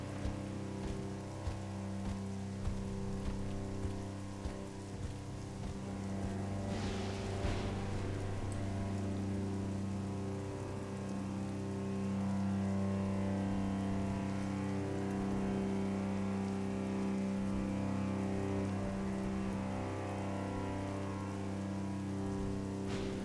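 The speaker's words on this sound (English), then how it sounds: "And of course it would be raining." Steady rain in a video game patters on surfaces over a low, continuous hum, with a brief louder rush midway and no voices.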